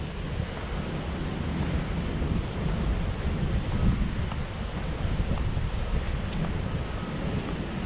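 Small beach area at Disney's Caribbean Beach resort, a soft continuous wash of lapping water mixed with wind buffeting the microphone, steady and moderately loud, no talk.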